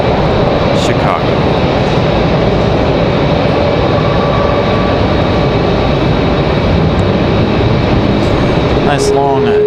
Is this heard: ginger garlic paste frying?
no